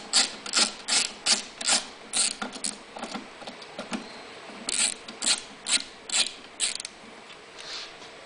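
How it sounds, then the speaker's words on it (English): Tightening a bolt on a Yamaha EF2400 generator while fitting an extended run time fuel kit, giving a close series of quick ratcheting clicks in short bursts with brief pauses, loud and alone. "tighten down this bolt"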